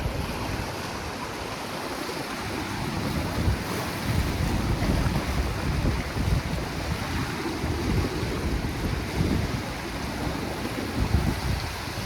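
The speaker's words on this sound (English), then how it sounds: "There's a lot of wind down here," Strong wind by a river in a nature glen roars steadily against the microphone, a constant buffeting rumble mixed with rushing water that lasts the whole clip, with no voices.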